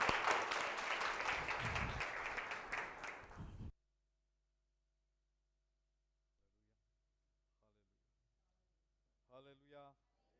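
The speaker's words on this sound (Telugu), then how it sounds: "పాస్టర్ గారిని చప్పట్లతో ఆహ్వానించుకుందాం." A church congregation at a Telugu worship service claps to welcome the pastor: dense, loud applause for a few seconds that stops abruptly, followed by near silence and a brief voice at the end.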